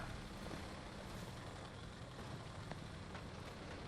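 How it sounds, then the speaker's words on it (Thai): A tank engine in the World War II shooter game Enlisted gives a loud, steady rumbling drone with dense broadband noise that carries through the whole stretch, with no voices over it. "ยังจะมีรถถังในคันนึงอีกเหรอ"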